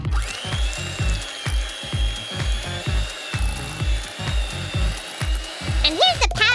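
Softened butter whipped with an electric mixer for buttercream, a steady motor whine with rhythmic pulsing beaters, close and continuous, with a brief clatter near the end.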